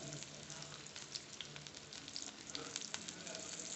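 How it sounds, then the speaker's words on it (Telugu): Onions with tempering spices frying in a little oil in a pan, a soft, steady sizzle with small pops and crackles, close but faint, running evenly without talk. "ప్యాన్లో కొద్దిగా ఆయిల్ వేసుకున్న తర్వాత పోపు దినుసులు వేసి ఆనియన్స్ యాడ్ చేయాలి"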